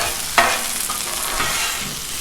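Onions frying on a Blackstone griddle, a loud steady sizzle close up with a scraping stir near the start, no voices.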